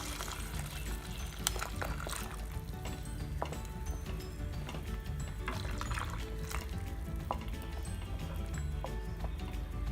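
A coconut and buttermilk curry (mor kuzhambu) simmers in a pot, giving a continuous bubbling and popping with irregular small bursts, close and steady throughout.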